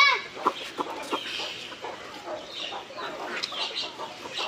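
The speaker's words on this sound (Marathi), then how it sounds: "आपली किती कोंबडी आता झालेली आहेत बघा" Chickens clucking on a farm, a flock of hens giving steady overlapping clucks and calls close by with a few louder squawks, over faint background rustle.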